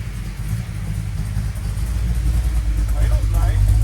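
A 1968 Dodge Coronet R/T with a 440 engine idles with a steady low rumble that builds slightly toward the end, as if given a touch of throttle, close and loud with no talking.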